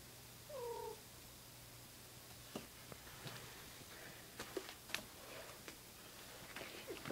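Cats make a couple of short, faint meows near the start, followed by soft scattered ticks and small knocks over a low steady hum in a quiet indoor room.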